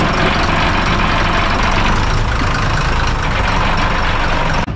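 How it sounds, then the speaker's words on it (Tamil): The heavy diesel engine of a passenger boat on the Alappuzha backwaters drones loud and close, a steady low rumble that fills the whole stretch without a break. "இன்ஜின் ஹெவி சவுண்டு, அந்த இன்ஜின் இதுதான்."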